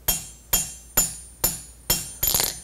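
A hammer strikes a curved steel blade laid on an anvil to straighten it, landing six sharp, ringing metallic blows at a steady pace about half a second apart, each decaying quickly before the next.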